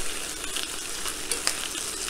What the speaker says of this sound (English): I'm gonna fry these up for a few minutes